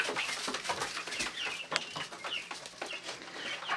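Young backyard chickens clucking in a coop, a steady chorus of close, overlapping clucks and short calls with no voices.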